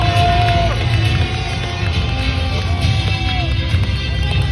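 An audience at a monster truck show roars and cheers in a loud, continuous crowd din, a broad sustained wash of noise with a low rumble underneath.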